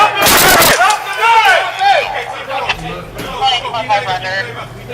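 Police firing less lethal rounds, a quick loud volley of close shots at the start, followed by shouting voices and commotion.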